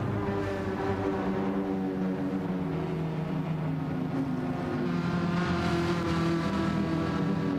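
A pack of race cars, including a Ferrari 458 GR.3, revving and pulling away at the start of a Gran Turismo 7 race at the Nürburgring, a steady, dense engine drone that swells slightly as the cars accelerate.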